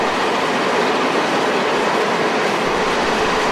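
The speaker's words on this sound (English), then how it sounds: "This is one of the Pullman coaches used on that train and is known as a clerestory type." A train running with a restored Pullman clerestory coach, a steady loud rumbling roar of wheels on track, dense and unbroken throughout at close range.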